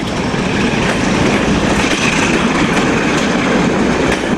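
A British Rail Class 47 diesel locomotive works a train, a loud, dense and steady rumble of engine and rolling wheels that fills the whole stretch with no voices.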